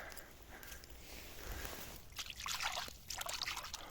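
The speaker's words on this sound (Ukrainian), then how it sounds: "А тут ще тече річечка." Gentle trickling and burbling of a small stream in a forest, quiet and close, with soft rustling movement nearby.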